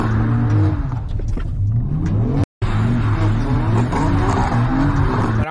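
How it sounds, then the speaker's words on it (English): Car engine revving hard with tires spinning for traction loss, traction control off and wheel turned fully, loud and continuous with rising and falling revs and a brief cut near the middle. "just get the tires to spin"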